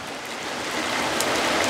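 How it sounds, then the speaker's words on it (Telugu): Steady rain falls outdoors by the Godavari, pattering on an outdoor cooking spot with dung-cake fuel. The hiss is even and continuous, with a few brighter drop hits and no voices. "క్లైమేట్ చూడండి ఫ్రెండ్స్. వాన"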